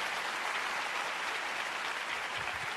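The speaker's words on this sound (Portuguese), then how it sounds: "Pode aplaudir de novo, pode aplaudir," A church congregation applauds at a Pentecostal service, steady dense clapping filling the whole stretch at a fairly loud, even level with no pauses.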